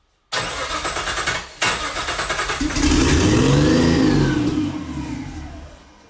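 A Nissan RB25 engine in a 240sx cranks over, catches and starts, then revs up loudly with a rising growl before easing back down toward idle, close by with no talking.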